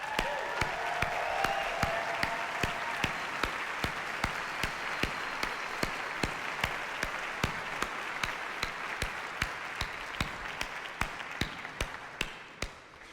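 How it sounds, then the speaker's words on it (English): Sustained audience applause at a music school commencement ceremony, a broad crowd of clapping with sharp regular claps standing out near the front, continuing steadily for over ten seconds. "Alicia, please stand and accept our applause."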